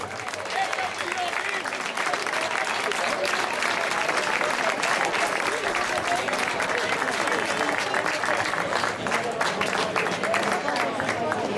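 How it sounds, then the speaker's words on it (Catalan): Dense, steady applause from a crowd at an outdoor giants festival celebration in Olot, Catalonia, loud and continuous throughout with a murmur of voices mixed in. "Un fort aplaudiment!"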